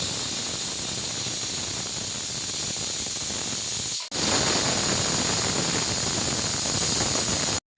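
Pressure cooker holding lentils and greens on the stove, a steady loud steam hiss that cuts out briefly about halfway through and then resumes just as strongly.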